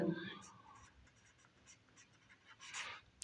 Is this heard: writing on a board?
yes